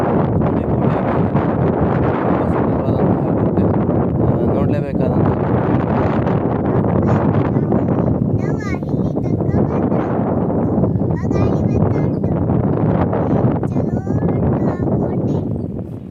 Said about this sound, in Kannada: ತುಂಬ ವೇಗವಾಗಿ ಗಾಳಿ ಬೀಸ್ತಾ ಇದೆ ಈ ಭಾಗದಲ್ಲಿ